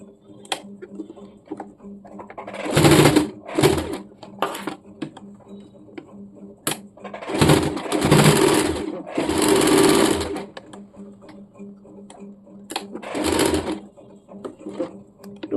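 A sewing machine runs in several separate bursts while stitching a cotton nightie at home. Short runs and longer steady whirring spells alternate with pauses, and someone talks softly in between.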